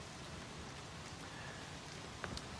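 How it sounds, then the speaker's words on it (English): Steady rain falling on surfaces in the video game Assassin's Creed Freedom Cry, a faint, even hiss throughout with a couple of slightly sharper drops near the end. "All this rain is making me thirsty."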